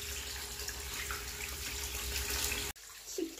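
Green tangerines being washed under a running kitchen tap, a steady close gush of water that cuts off abruptly near the end, followed by a few faint handling sounds.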